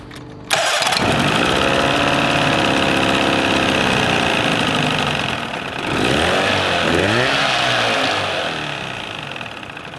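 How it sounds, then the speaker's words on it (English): An outboard motor starts with a sharp catch and settles into a steady, loud idle, its pitch wavering and dipping briefly near the end. "we'll start her up and make sure she idles."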